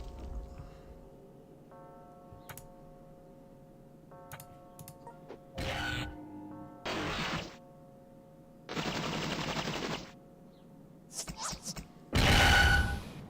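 Airstrike attack in the video game Epic Battle Fantasy 2, several loud blocky bursts of explosive noise arriving one after another over a quiet musical backdrop, the final burst the loudest.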